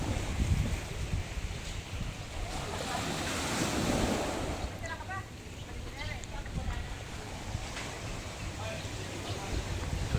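Sea surf washing onto the shore at Pabian beach by a resort, a steady broadband rushing roar that swells and eases across the whole stretch, mixed with gusty wind buffeting the microphone and brief faint voices in the middle.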